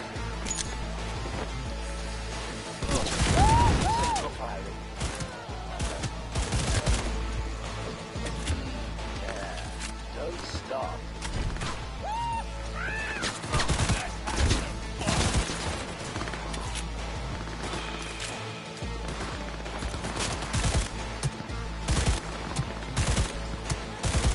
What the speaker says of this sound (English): this smart pistol is crazy